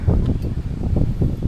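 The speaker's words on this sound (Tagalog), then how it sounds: "Grabe lakas talaga hangin" Strong wind gusting against a tent at a rainy Zambales campsite, a steady low roar that swells in repeated surges, close to the microphone with buffeting, and no talk over it.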